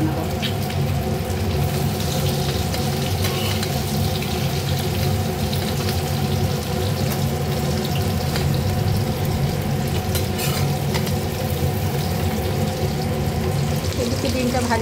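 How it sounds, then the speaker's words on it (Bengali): Beaten duck egg omelette fries in a pan, giving a steady, close sizzle and bubbling that runs evenly throughout with no pauses. "গোটা হাঁসের ডিম আর অমলেট দুটো মিলিয়ে ঝাল বানাবো। হাঁসের ডিমের ঝাল। এখানে অমলেট করছি"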